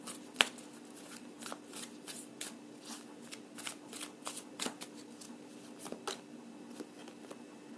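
Tarot cards being shuffled and drawn during a reading: a quick run of crisp, papery flicks and snaps, close and fairly quiet, with no voices.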